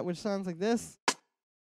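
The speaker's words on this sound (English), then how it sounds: "Basically, it starts with this rim shot" A low-passed rim shot drum sample sounds once as a single short, dull crack right after a man's brief speech, then silence follows.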